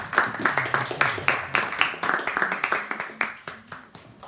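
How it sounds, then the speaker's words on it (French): A church congregation claps for the singers and musicians, a small group of hands beating a fairly steady, rhythmic clap close by, with a few voices murmuring underneath. "on va applaudir nos amis qui nous encouragent en chantant et en jouant"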